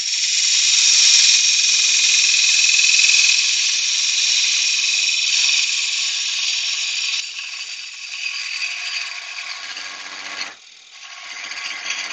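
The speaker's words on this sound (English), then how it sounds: "I'm going to just try and finish it off with a spindle gouging" A wood lathe turns a vase while a spindle gouge cuts, giving a steady, loud, hissing whine that holds for several seconds, then eases and dips briefly near the end before resuming; no one talks.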